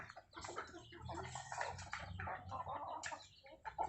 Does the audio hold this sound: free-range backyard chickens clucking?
yes